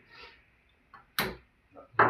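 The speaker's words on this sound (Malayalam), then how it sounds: "ഞാൻ ഗ്യാസ് കത്തിക്കുന്നു" A gas stove in a village home kitchen is lit with a few sharp, close clicks spread over two seconds in a quiet room, with a louder snap near the end and no talking.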